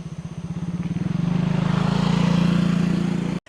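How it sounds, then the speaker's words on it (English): A motorbike approaches from behind on a street in Ubud, Bali, its engine putting steadily louder and closer, then cutting off abruptly. "there's a bike coming behind me"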